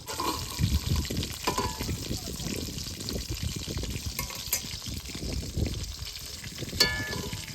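Oil sizzles and crackles steadily as hilsa fish fries in a pan, with occasional stirring clatter and faint background voices.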